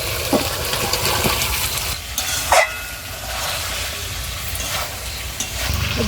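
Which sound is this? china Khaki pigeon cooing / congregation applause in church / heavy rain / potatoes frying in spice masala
potatoes frying in spice masala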